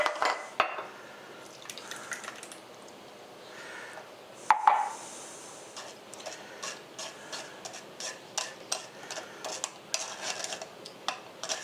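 Milk kefir grains are dumped back into a jar with soft clinks and taps of glass and utensils. A brief louder clatter comes midway, followed by a run of small irregular ticks.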